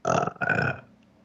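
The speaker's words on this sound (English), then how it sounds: "Ooh, burp." A loud, close burp in two quick voiced bursts, the second trailing off into a short fading tail.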